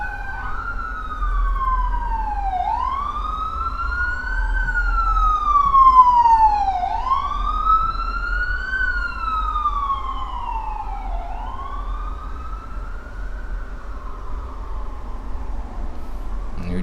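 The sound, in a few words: emergency vehicle sirens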